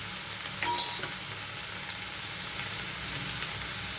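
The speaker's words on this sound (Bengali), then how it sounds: "এবারে রসুন কুচি, আদা কুচি, কাঁচা লঙ্কা কুচি সব একসাথে দিয়ে দিলাম।" Chopped garlic, ginger and green chili fry in a pan for a Bengali moong dal tadka, with a steady close sizzle and light stirring clinks.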